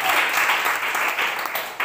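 A church congregation claps loudly and continuously together during a worship service, a full, close wash of many hands that surges briefly near the end.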